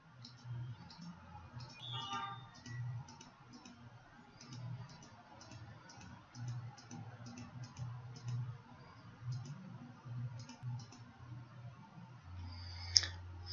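Mouse buttons click in quick, regular bursts while polygons are digitized in QGIS, sounding close and faint over a low hum from the computer.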